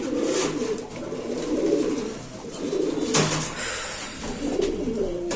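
Blue satin pigeons coo repeatedly in low, throaty rolling phrases, close and fairly loud, with a brief rustle midway and no speech.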